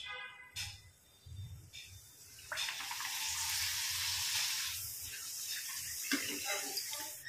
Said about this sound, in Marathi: मी तुम्हाला पापड तळून देखील दाखवते।